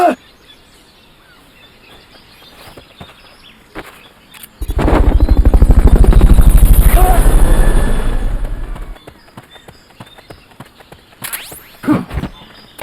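Helicopter in the video game Metal Gear Solid: Peace Walker: a loud rhythmic rotor chop swells in, holds for about four seconds and cuts off, with quieter game effects and short bursts on either side.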